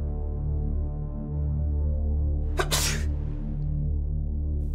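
A single sharp human sneeze bursts out midway over a low steady hum, brief and close, with quiet before and after.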